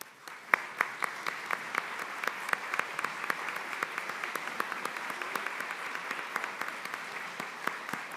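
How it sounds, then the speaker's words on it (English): Sustained applause from a graduation convocation audience honouring faculty members, steady dense clapping across the whole stretch with a few sharper individual claps standing out, fairly even and moderately distant. "could we give them a round of applause"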